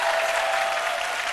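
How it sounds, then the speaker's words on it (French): An audience of schoolchildren at a midday show claps together in dense, continuous applause, loud and close, sustained without a break. "Vous pouvez vous applaudir."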